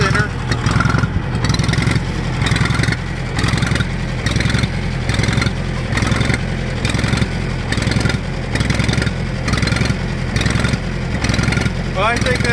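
A John Deere tractor engine runs after a cold start, a loud steady mid-pitched rumble with rhythmic pulsing throughout, close by and continuous with no pauses.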